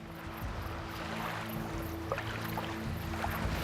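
A boat travelling across open water on the way to the next beach gives off a steady engine drone with a rushing wash of water and wind, loud and continuous with no talk.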